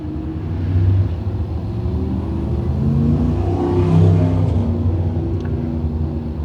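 Race cars roar through heat races at Can Am Speedway, their engines revving and surging loudly as they pass close by, rising and falling in a continuous drone. No one speaks.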